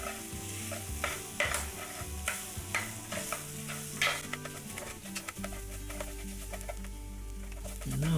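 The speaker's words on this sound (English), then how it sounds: "Now I'm going to add in the black pepper and just stir fry it for another minute or two." Black pepper stir-fried in a pan for a pepper sauce, a steady close sizzle with scraping stirring strokes, a low hum running underneath.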